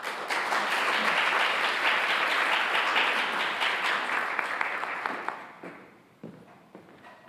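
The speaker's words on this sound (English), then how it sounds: "Let's welcome him with a big round of applause." A seminar audience at a G20/OECD corporate governance event in Fukuoka claps for Commissioner Endo, a full, even round of applause that thins out and trails off into a few scattered claps.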